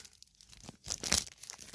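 Stuck-together comic book pages being pulled apart, a quiet pause followed by a close, crackling tear-like peel lasting under a second, with no talk.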